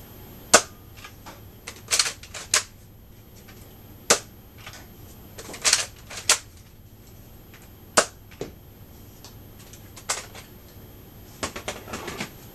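A Nerf N-Strike Elite Retaliator blaster with its barrel attachment fires darts indoors: a run of sharp, separate clacks and pops spaced about a second or two apart, fairly faint against a quiet room.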